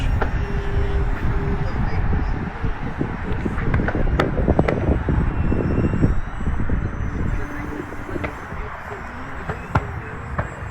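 A HobbyKing Wargo Edge 540T RC model airplane flies in knife-edge with a steady, fairly loud motor drone over wind noise, alongside a talking voice.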